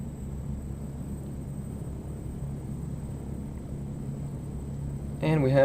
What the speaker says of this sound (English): Engine's coming up to speed.